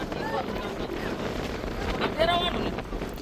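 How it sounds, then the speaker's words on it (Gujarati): A boat runs on open water during a fishing trip, giving a steady low engine drone mixed with wind buffeting the microphone, with a brief higher whine near the end and faint voices. "આ જો બોટું પણ ચાલુ છે."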